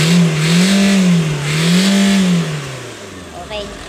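Toyota Fortuner engine firing back up and revving, its pitch rising and falling in two swells before settling down toward idle, loud and close with no talk over it.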